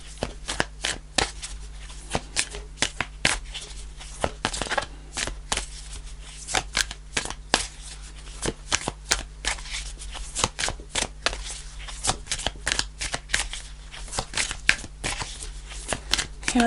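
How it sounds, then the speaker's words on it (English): Tarot cards being shuffled by hand in a quiet room, a steady run of crisp riffling and slapping card sounds close up with brief pauses, no talking. "Okay, I'll do a couple more shuffles."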